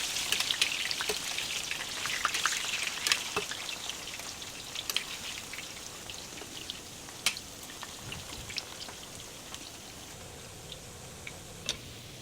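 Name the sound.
plantain frying in oil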